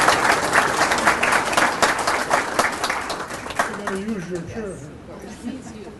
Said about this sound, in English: Let's give him a nice round of applause to start with.